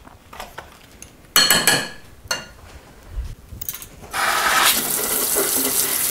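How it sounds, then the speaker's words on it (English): Electric mixer beaters rinsed under a running kitchen tap: metallic clinks and knocks against a sink, brief water bursts, then a loud steady stream of running water, close by, with no talking. "you just want to rinse the other cheese and sugar and stuff off of them"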